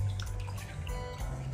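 Falsa juice straining through a sieve while stirred with a spoon, a soft continuous trickle and drip of liquid with faint spoon scraping, close and quiet.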